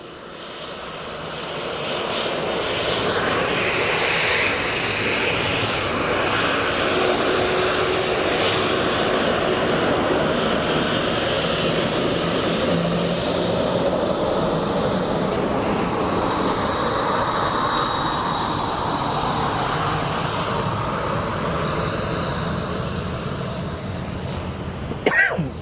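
An Antonov An-12 turboprop freighter at Dublin Airport, its engines producing a broad, steady roar that swells in over the first couple of seconds and holds loud and continuous throughout.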